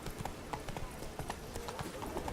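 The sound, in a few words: horse hooves clip-clopping in the video game The Witcher 3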